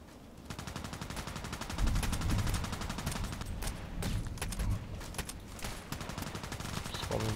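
Enemy gunfire aimed at the player in a shooter video game: dense volleys of rapid automatic shots and overlapping single cracks, loud and nearly continuous for several seconds.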